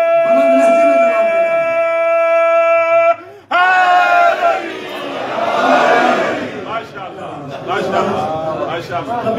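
At a Muharram majlis gathering, a sustained chanted call is followed by a brief pause and then a large crowd loudly roaring its answer in unison, voices swelling then settling into mixed shouting.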